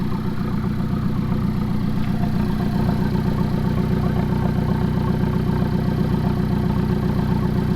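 An Alfa Romeo 4C idles with a Centerline center exhaust fitted, giving a steady, loud, close burbling rumble with an even mechanical pulse throughout, no voices over it.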